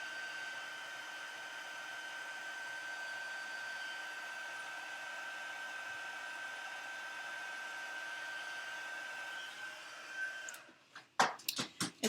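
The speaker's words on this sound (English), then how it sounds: "Excuse me while I turn on the heat tool." A heat tool for card making blows hot air in a steady, close, even hiss that runs for about ten seconds, then cuts off and is followed by a few short knocks.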